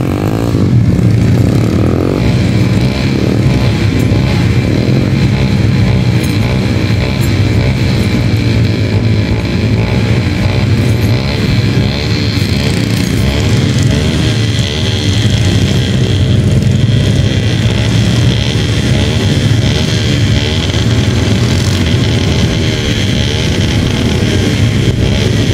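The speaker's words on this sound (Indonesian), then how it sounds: "Motornya betul-betul harus diangkat seperti itu, guys, karena sulit untuk melalui jalan ini." A motorcycle taxi engine labours continuously on a deep, muddy road through rough country, the sustained droning roar rising and falling as the bike strains through the mire, loud and close with no talking.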